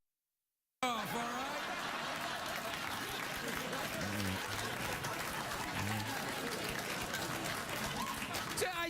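Studio audience applause at a late-night talk show, a dense steady roar of clapping sustained throughout, with a few faint chuckles mixed in.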